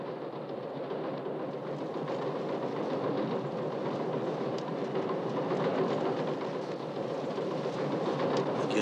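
A passenger train rolls toward its Oceanside station stop, heard from inside as a steady, even rumble and hiss with faint rattles and no voices.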